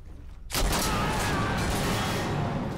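Sustained rapid gunfire from an AK-style rifle in a close-quarters raid scene, a sudden loud burst after a brief quiet lead-in that continues as a dense, echoing fusillade.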